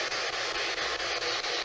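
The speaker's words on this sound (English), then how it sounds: "With white noise, they should still be able to talk to us." Ghost-hunting spirit box sweeping through radio static at a paranormal investigation inside an inn, giving a steady loud hiss of white noise with faint regular choppy pulses as it scans, no voices.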